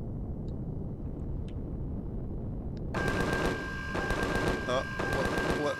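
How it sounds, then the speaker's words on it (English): Automatic gunfire in the space survival game Empyrion Galactic Survival bursts in after about three seconds of near quiet, then keeps up as dense rapid volleys with sharp repeated cracks, fairly loud and steady to the end. "What are you shooting at?"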